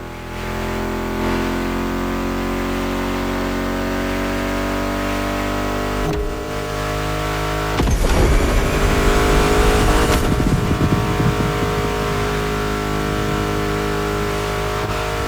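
American muscle car engines in The Crew Motorfest rumble at a steady idle drone, then roar louder as they rev and accelerate partway through, close and continuous with music-like tonal layers.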